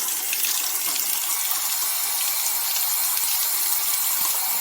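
Warm tap water runs steadily to rinse Ektar 100 120 film during home development, a continuous close splashing hiss without talk.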